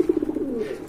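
Pigeons coo at a busy pigeon market in Bangladesh, including a pair of striking red-eyed birds; a steady run of soft, throaty coos pulses close by with no talking.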